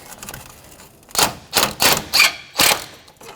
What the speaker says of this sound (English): I just loosened it up enough, and then I'm just going to take the bolt out that holds the hold down.